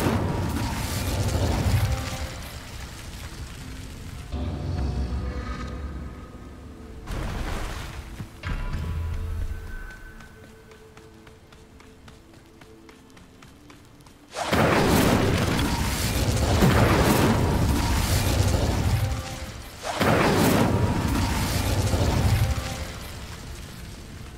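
The Incendio fire spell in Hogwarts Legacy erupts in loud bursting blasts, goes quiet for a stretch, then returns as long, heavy roaring whooshes of flame.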